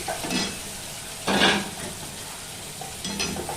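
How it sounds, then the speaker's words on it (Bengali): Tangra fish dropped into fried onion paste in a pan, a steady sizzle with bursts of stirring and scraping, the loudest surge in the middle, no talking. "এবার আমি মাছগুলো দিয়ে দিচ্ছি"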